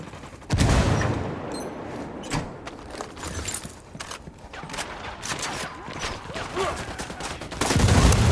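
Gunfire and a grenade blast ring out in a firefight in the video game Ghost Recon Wildlands: a loud, dense fusillade of shots running throughout, with heavy booming bursts near the start and end.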